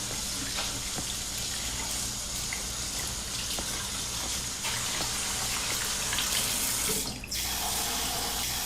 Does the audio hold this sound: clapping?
no